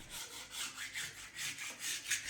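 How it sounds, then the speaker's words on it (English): A wall is scraped by hand before fresh plaster, producing rhythmic back-and-forth rasping strokes, about four per second, close and steady with nobody talking. "it was time to scrape and prep this wall ready for fresh plaster"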